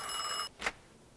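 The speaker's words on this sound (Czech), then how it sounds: "Zvoní telefon." A telephone in the video game Mafia II rings with a short bell burst that cuts off abruptly, followed by a quick faint rustle, with no talking.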